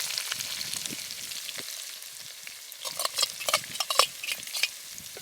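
Chopped onion tossed into hot oil with garlic for a Kathiyawadi curry, sizzling steadily while a spoon stirs it. The stirring scrapes and clatters grow louder and more frequent in the second half, and no one speaks.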